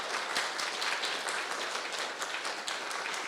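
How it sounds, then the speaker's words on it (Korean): A church congregation at Sunday worship applauds to welcome an incoming senior pastor and his family, a full, sustained roll of clapping from many hands filling the room. "우리 먼저 크게 박수로 환영해 주시기 부탁드리겠습니다"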